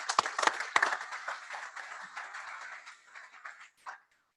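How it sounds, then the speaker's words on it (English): An audience at an ocean-themed panel event claps for the panelists, starting with a few sharp nearby claps before a steady round of applause fades out to silence, fairly faint overall. "Give a round of applause for our panelists."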